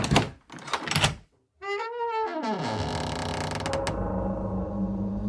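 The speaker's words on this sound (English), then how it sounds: "grabbed the metal handle and opened the door" A metal door fitted with a padlock and metal handle grinds and creaks as it swings open after brief resistance, a long drawn-out squeal with mechanical clanks, preceded by a few sharp clunks and a short silence.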